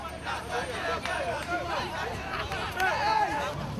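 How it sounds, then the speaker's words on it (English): A throng of people walking together toward the coast in Abidjan, Ivory Coast, a steady babble of crowd chatter and shuffling footsteps close around, with voices overlapping. "I encounter a throng of people heading in the same direction."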